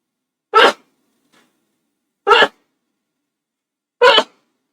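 Three sharp, close sneezes spaced evenly about two seconds apart, each a loud short burst separated by near silence, during a home cooking stream.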